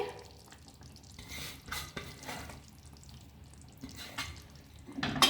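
A spoon stirs fresh coriander into a pot of lauki kofta curry with the gas turned off, giving a soft, wet scraping and sloshing that rises in a few short bursts and grows louder at the end.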